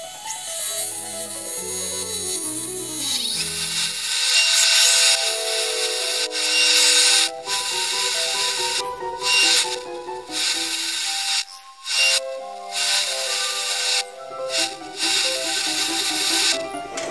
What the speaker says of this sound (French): Alors je vais percer de façon à trouver la profondeur.